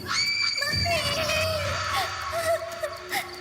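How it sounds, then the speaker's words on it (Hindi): A girl screams loudly in a long, wavering high-pitched cry that rises sharply and holds for several seconds, close and piercing, part of a horror story set by a well near a field scarecrow. "उसे देखकर जोर से चिल्लाई"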